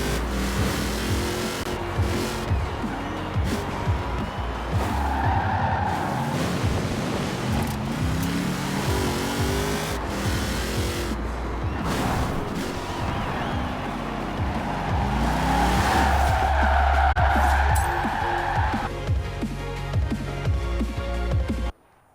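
A GMC Typhoon in Forza Horizon 4 drifts: the engine drones and shifts pitch continuously while tires squeal in long sustained bursts, loud and close, with no talking.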